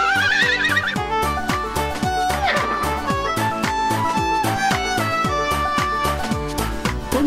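A horse whinnies with a wavering neigh early on, loud over a bouncy children's song about brushing the horses, with steady beats and melody continuing throughout.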